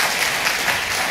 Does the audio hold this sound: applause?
yes